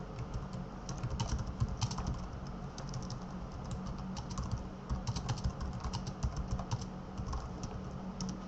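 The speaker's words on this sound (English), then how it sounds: "you can go here to this area and type notes" Quiet, rapid clicking of keys as notes are typed on a computer keyboard, an even stream of light taps with brief pauses, close and alone.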